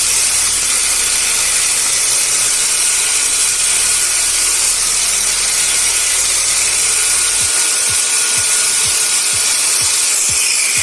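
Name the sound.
cordless angle grinder on homemade Makita 18V battery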